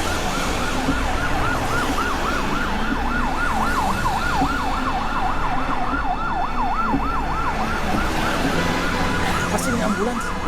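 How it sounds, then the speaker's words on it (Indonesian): An ambulance siren wails continuously in a steady rising-and-falling cycle, loud and close, over dense traffic and street noise. "Pasti ini ambulans."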